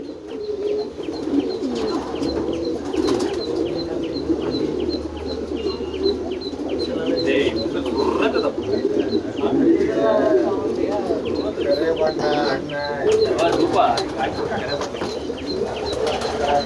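Homing racing pigeons coo in a loft, soft repeated throaty calls under someone talking close by.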